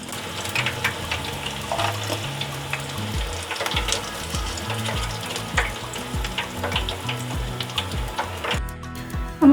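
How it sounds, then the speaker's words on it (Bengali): Gondhoraj chicken pieces sizzle in hot oil during a second fry, a steady close crackle with scattered pops over a low tonal background. "এবার আমি দ্বিতীয়বার ফ্রাই করে নেব।"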